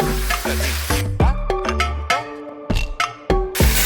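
Onions frying in a pan before pierogies are added, with close, repeated stirring and scraping strokes over a steady sizzle, several sharp clanks of the utensil against the pan.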